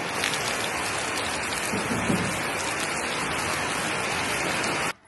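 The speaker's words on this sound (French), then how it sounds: "En même temps, ça rafraîchit un peu l'atmosphère, cette pluie" Steady rain pours down in a dense, even hiss, loud and close, cutting off abruptly near the end.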